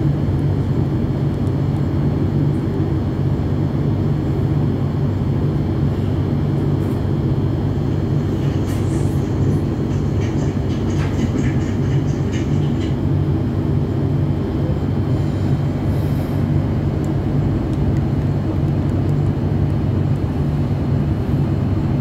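Thameslink Class 700 electric train running from Orpington to London Blackfriars, heard as a steady, loud interior rumble and hum with continuous broadband roar throughout.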